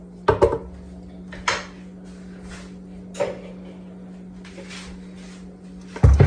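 Honey garlic glass noodles being mixed in a bowl, giving a few scattered clinks and knocks of utensils against the dish, with a steady low hum underneath and a louder clatter at the end.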